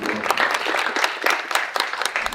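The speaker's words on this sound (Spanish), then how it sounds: "Sin más preámbulo, démosle la bienvenida, con un fuerte aplauso." Applause from a university lecture audience welcoming a speaker to a talk on football finance, dense steady clapping from a crowd, fairly close and sustained for a couple of seconds.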